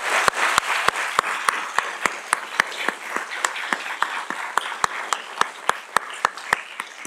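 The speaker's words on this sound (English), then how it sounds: "Let's give a round of applause for that." An audience at a university engineering lecture gives a round of applause, a dense patter of clapping with distinct sharp claps standing out near the mic, sustained evenly for several seconds.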